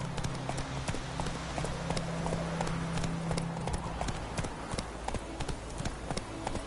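Geralt's horse Roach clip-clopping in The Witcher 3, with close, even hoofbeats in a steady rhythm throughout and a faint low tone beneath them.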